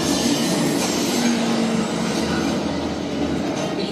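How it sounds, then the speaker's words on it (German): A fast-moving train roars past continuously, with rumbling wheels, rail clatter and a brief high squeal, loud and steady throughout with no talking. "Sie sehen da, dass dieser Zug sehr schnell rast auf den Tod zu."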